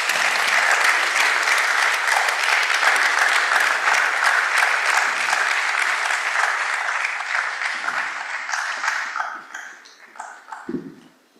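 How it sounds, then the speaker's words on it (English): Sustained audience applause fills a conference hall after a panel introduction at a directors' conference, loud and dense for about nine seconds before thinning out and fading to scattered claps near the end. "Please let's give them a round of applause."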